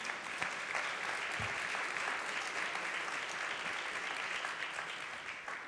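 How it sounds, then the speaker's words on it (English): An audience applauds a conference panel member at an interpreting event, steady dense clapping that holds evenly throughout without a break. "please give him a round of applause"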